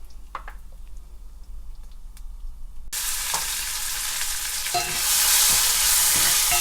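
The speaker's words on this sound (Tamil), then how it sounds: "ஒரு வெங்காயம் கட் பண்ணி வச்சுருக்குது இதில் போட போகிறேன்." Chopped onion drops into hot ghee while cooking brinjal dal. A quiet pan bursts into loud, continuous sizzling and frying, which grows stronger as it is stirred.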